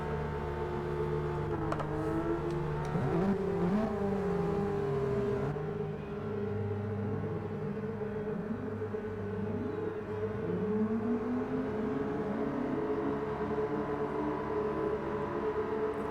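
Race car engines rev and drone together as a grid launches from the start of a street car racing game, a steady loud mechanical roar with pitch sweeps as cars accelerate and shift.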